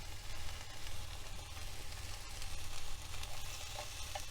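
Slivered carrots, tofu and udon noodles stir-frying in a pan during van-life camp cooking, with a steady, moderate sizzle and occasional stirring scrapes, no voices.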